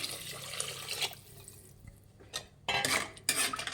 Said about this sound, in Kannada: ಎರಡು ಗ್ಲಾಸ್ ನೀರು ಹಾಕ್ಕೊತಾ ಇದ್ದೀನಿ